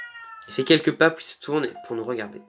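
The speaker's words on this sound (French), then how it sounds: "Je me tourne et vois un petit chat gris nous observer." A small grey cat meows briefly, its thin cries mixed in with a narrator's French speech, which continues over the sound throughout.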